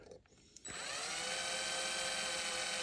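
After a brief quiet moment with a click, a small drill spins up and whines steadily at high pitch, boring into a Hot Wheels toy car, close and continuous.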